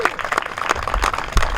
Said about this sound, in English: How about a round of applause for Hatboro?